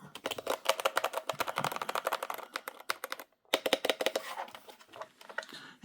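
Rapid clicking keystrokes on a Redragon Trundle RGB mechanical keyboard fitted with sound-absorbing foam, steady close-up typing bursts with a brief pause midway, no talk.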